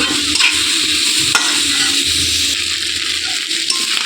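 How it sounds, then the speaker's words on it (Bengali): Plantain pieces stir-fried in oil in a pan, a steady close sizzle with scraping and light clinking from stirring, running continuously without talk. "ভালো করে তেলের মধ্যে কষিয়ে নিলেও টেস্টটা সুন্দর আসে"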